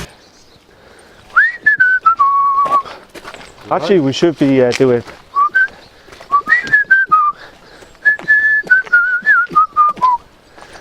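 Someone whistles a wavering tune in short phrases, close and clear, with a brief burst of talking in the middle.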